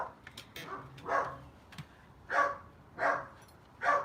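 A dog barks outdoors, four or five moderately distant barks in an uneven rhythm with a few faint yips between them.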